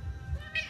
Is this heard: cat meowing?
yes